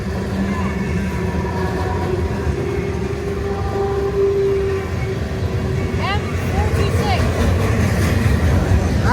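A freight train with a mix of cars rolls past in wet, stormy weather as a steady loud rumble with drawn-out wheel squeals and hums. A voice is briefly heard over it.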